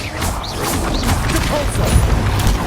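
Confringo fire spell cast in Hogwarts Legacy, a steady rumbling blast with crackling and mechanical clatter lasting throughout, thick low-end booms layered under swishing magical whooshes.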